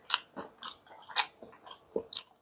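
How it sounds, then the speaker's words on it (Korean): Someone bites into and chews a pan-fried bean sprout and gochujang jang-tteok pancake, with several crisp crunches and softer chewing sounds heard close up and no talk. "먹어보겠습니다"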